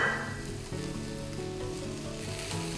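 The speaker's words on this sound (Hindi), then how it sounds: "और अब ऐड करने जा रही हूँ इसमें मैं पोहा।" Poha being added to onions frying in a pan, heard as a steady, close sizzle with soft stirring scrapes running the whole time and no talking.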